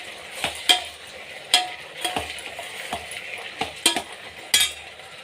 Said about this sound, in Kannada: ಇದಕ್ಕೆ ಟೊಮೊಟೊ ಹಣ್ಣು ಹಾಕೋಣ. ಟೊಮೊಟೊವನ್ನು ಒಂದು 5 ನಿಮಿಷಗಳ ಕಾಲ ಚೆನ್ನಾಗಿ